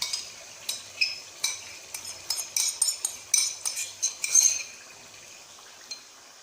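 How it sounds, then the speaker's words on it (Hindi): Metal spoon clinks and scrapes against a pot while yogurt is stirred into chicken biryani gravy, a run of close, irregular taps and clatters that fade out near the end. "अब मैं इसमें दही शामिल कर देती हूँ।"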